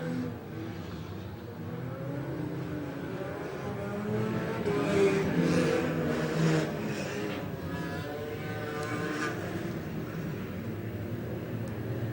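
Race cars at a Painesville Speedway enduro race make a steady engine drone that swells in the middle of the clip as cars pass at moderate distance.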